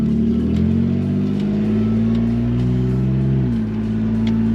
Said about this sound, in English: the Q50 is pretty loud for a daily driver